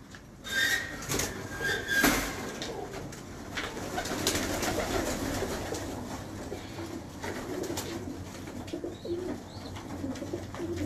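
Pigeons coo continuously at a moderate distance, a soft, rolling murmur of several birds with light rustling and a brief louder bump near the start, with no one speaking.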